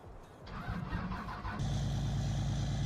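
A V8 engine in Farming Simulator 19 cranks with a short starter churn, then catches and settles into a deep, loud, rumbling idle, close and heard alone.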